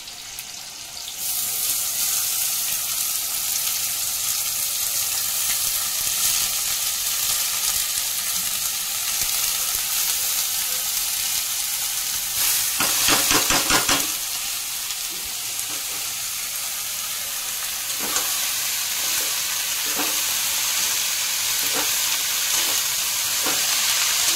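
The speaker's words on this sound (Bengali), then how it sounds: "আর বাঁধাকপিটা দিয়ে দিচ্ছি।" Cabbage frying in a pan with tomato, a loud continuous sizzle heard close up throughout, broken by bursts of scraping and stirring from a spatula, with no talking.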